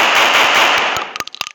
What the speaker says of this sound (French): En mode mitraillette, ça fait comme ça.